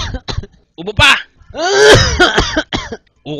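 A man coughs several times at close range on a doctor's request, with harsh bursts mixed with short spoken exchanges.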